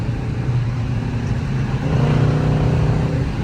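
A loud Dodge Charger RT drives through a tunnel, its engine a steady, booming low rumble that swells slightly, heard up close from inside the car.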